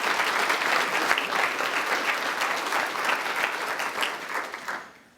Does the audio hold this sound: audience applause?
yes